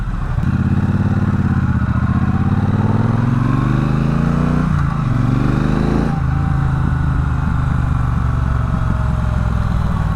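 A Triumph Bonneville Bobber motorcycle with stock exhaust drones loudly while riding, its pitch climbing and dropping with throttle changes, with steady wind and road noise.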